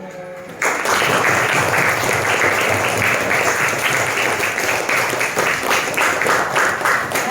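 Applause in a classroom session breaks out suddenly after a moment of quiet, then holds as a loud, dense wash of clapping from many hands until the end.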